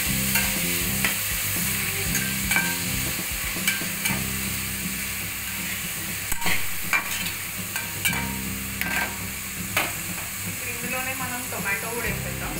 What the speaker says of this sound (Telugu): బాగా కలిపేద్దాం.